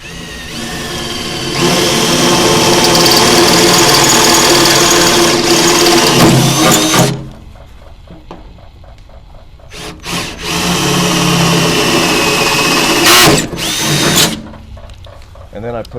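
Power drill boring holes for a custom shelf install: a loud close whining run of about five seconds, a quieter pause with faint handling, then another burst of drilling that stops and restarts briefly.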